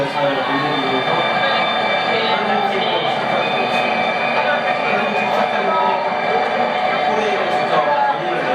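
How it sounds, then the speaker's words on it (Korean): The last train of the day rumbles and whines steadily as it pulls away from a small rural station, a loud continuous mechanical drone with a crowd's murmur mixed in. "마지막 열차가 떠나가는 모습입니다"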